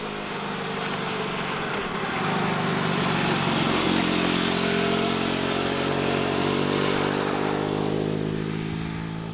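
FB Mondial Pagani 1948 Sport Classic motorcycle engine, a modern take on an old race bike, running steadily up close. The exhaust note thickens and rises in pitch midway as the engine revs up, then holds a strong, continuous drone.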